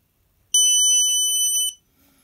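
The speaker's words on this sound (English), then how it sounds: "whenever the motion sensor right here detects movement, the alarm, a horn, and LED will come on" A Snap Circuits motion detector project sets off its electronic alarm horn: one loud, piercing steady electronic tone lasting about a second, close and alone, then cutting off.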